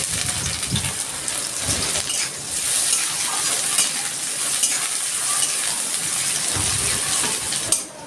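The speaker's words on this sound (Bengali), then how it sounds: "আমি ছোট্ট একটা পেঁয়াজ কুচি করে রেখেছি সেটা।" Cumin, cardamom, cinnamon and chopped onion fry in hot oil with a loud, continuous close sizzle, stirred now and then with soft scraping, no talking.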